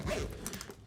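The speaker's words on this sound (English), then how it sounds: "You have a spot for your laptop, which will zip up here." A quick zipper pull on the laptop compartment of a camera bag gives a short, close rasping sound lasting under a second.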